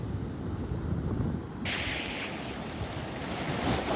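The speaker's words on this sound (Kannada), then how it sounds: "ಬಟ್ ಇವಾಗ ಬೀಚ್ ಅಲೆಗಳು ಫುಲ್ ಹಿಂದಕ್ಕೆ ಹೋಗ್ಬಿಟ್ಟಿದೆ" Beach waves washing on the shore make a continuous roar with wind buffeting the microphone, and the sound grows brighter and fuller partway through.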